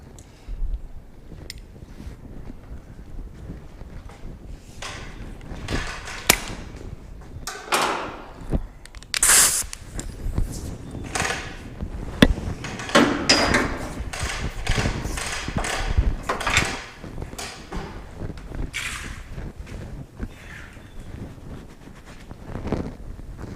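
Hand reamer working metal on a 1967 Chevelle while fitting a Lokar gas pedal: irregular scraping and grinding strokes with clicks and bumps, fairly close and moderately loud, no talk.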